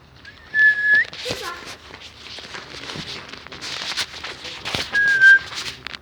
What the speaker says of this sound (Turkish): Arkadaşlar ıslık sesi benden geliyor.